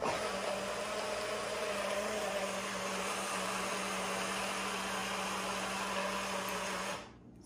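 A portable blender from Amazon running, a steady high whirring motor with a constant hum, close and even for about seven seconds before it shuts off abruptly.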